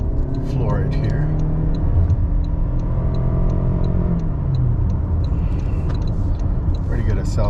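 A 2025 Toyota Camry LE Hybrid pulls hard at full throttle, its engine droning steadily with a rising hum and road rumble from inside the cabin, while someone talks over it throughout.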